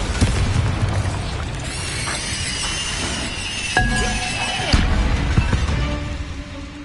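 A Bombarda spell detonates in Hogwarts Legacy with booming blasts and a crash of shattering debris, followed by a second impact a second later, over a background score.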